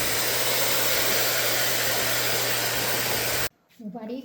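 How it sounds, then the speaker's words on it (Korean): A hair dryer on the warm setting blows over freshly treated, bleached and straightened hair, a loud steady whooshing hum with a constant tonal whine that cuts off abruptly near the end, followed by a brief voice. "드라이기 온풍으로 해서 나머지 전체 이렇게 바람을 주어가면서 말리는 중입니다"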